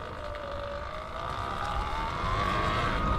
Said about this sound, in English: That's the sweet sound of chain lube and a little bit of stiction.